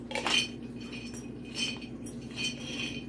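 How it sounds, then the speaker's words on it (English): Homemade nut mix rattling inside a jar as it is shaken, three short bursts of clattering and clinking over a low steady hum. "Then I shake it up. I mix it good together."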